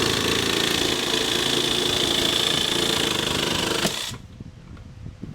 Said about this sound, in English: I think that new blade in that jigsaw helped a bunch.